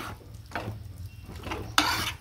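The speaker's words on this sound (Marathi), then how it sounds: "भाजी मॅश करताना हाताला जोर द्यायचा आहे।" Cooked vegetables for Mumbai-style pav bhaji mashed firmly in a pan, with a few rhythmic squelching presses and a sharp clink of the masher against metal, close and quiet without speech.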